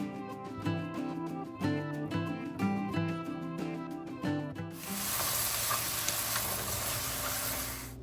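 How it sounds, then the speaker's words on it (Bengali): After a stretch of tonal background music, a loud steady sizzle takes over as chopped vegetables are added to hot oil with dried red chilli, panch phoron, cumin and ginger, continuing unbroken to the end. "তেলের মধ্যে কিছুটা শুকনো লঙ্কা পাঁচফোড়ন জিরে আর আদা দিয়ে কষিয়ে তার মধ্যে এক এক করে কেটে রাখা সব সবজিগুলোকে দিয়ে দেবো"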